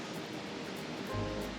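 Steady water flows near a high mountain campsite by Lake Como, a soft, even rushing hiss heard faintly and continuously from a short distance.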